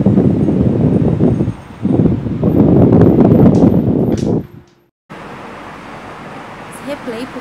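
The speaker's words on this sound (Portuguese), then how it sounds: "eu não tinha percebido o barulho do vento" Strong wind buffets an outdoor microphone with loud rumbling gusts, briefly cutting out before a quieter, steadier stretch of wind noise.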